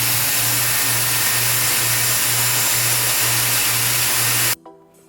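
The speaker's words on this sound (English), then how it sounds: "So this is how I like to do my hair with my air wrap." A Dyson Airwrap hair styler blows hot air in a loud, steady broadband rush with a low pulsing hum, then cuts off abruptly near the end.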